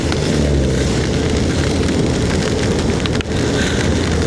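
Heavy rain pours steadily in a loud, dense hiss with a low rumble underneath, continuous throughout.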